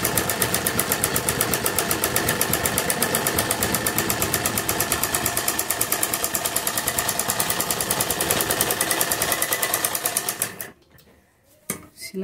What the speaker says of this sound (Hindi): उसी शेप में अपनी एक सिलाई लगाएंगे।